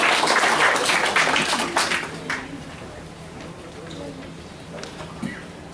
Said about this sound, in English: Please welcome Toastmaster Varghese Thomas with a thunderous round of applause